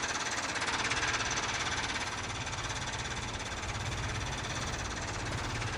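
A Farmall tractor engine in a vintage farming video game chugs with a steady rapid knock, heard from a third-person view, loud and continuous with no voices.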